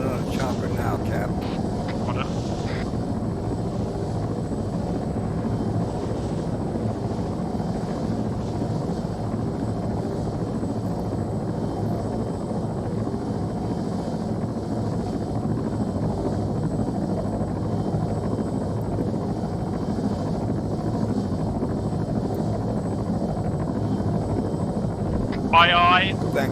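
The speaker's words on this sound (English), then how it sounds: "I'm coming in on a chopper now" A helicopter approaching in a military video game, a steady low droning rotor and engine rumble that holds for the whole stretch at moderate level, with a few faint higher chirps near the start and end.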